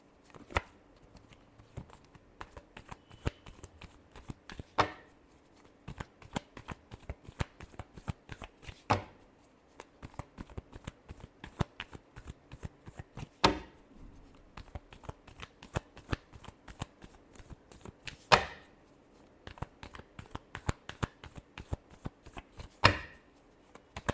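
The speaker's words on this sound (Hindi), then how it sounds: "last shuffle" Tarot cards being shuffled, a long run of quick crisp riffles and soft slaps repeating in bursts, close and quiet, with no voices.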